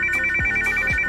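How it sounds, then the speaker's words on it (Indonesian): A phone rings in two short electronic bursts, bright and steady, with a low thud under each ring and no one talking. "lalu tiba-tiba telepon berdering"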